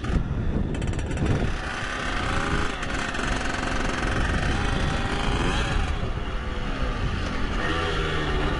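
A Lem LX4 mini motocross bike with a clutch problem revving continuously while being ridden, its small engine buzzing loud and close throughout with wind rushing over the microphone.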